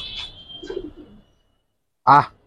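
Pigeons in a loft give soft low coos and murmurs, then one short, louder close call after a brief silence.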